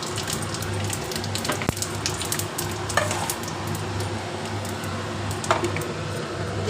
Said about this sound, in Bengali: জিরে ফোড়ন দিলাম।